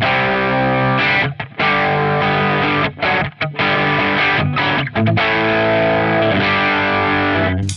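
A heavily overdriven electric guitar through a DOD OD250 overdrive pedal plays loud, gritty chords and riffs with a few brief pauses, bright and crunchy throughout.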